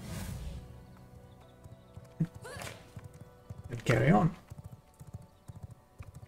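Horse hooves clip-clop in the game V Rising, a quick patter of close, soft thuds that picks up near the end, heard beneath someone talking.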